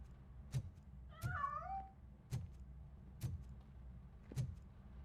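A single wavering cat meow sounds in the RoboCop Rogue City video game, set against regular heavy mechanical footsteps thudding about once per second in an otherwise quiet scene.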